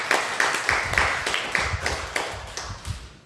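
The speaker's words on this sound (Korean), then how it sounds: "박수로 축하하고 감사합니다." A church congregation claps in celebration, a sparse, uneven patter of hand claps with distinct individual hits, moderately close and fairly soft.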